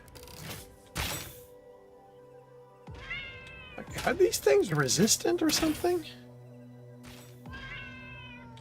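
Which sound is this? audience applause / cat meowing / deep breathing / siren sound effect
cat meowing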